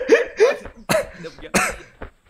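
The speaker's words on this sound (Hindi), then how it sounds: "इतनी खांसी क्यों आ रही है यार?" A person coughs several times in short, harsh bursts, close and loud, with brief pauses between the coughs.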